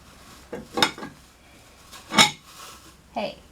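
A metal spoon knocks against items during a Dollar Tree spring farmhouse centerpiece craft, three separate clacks spaced about a second apart, close and fairly sharp, with no talking.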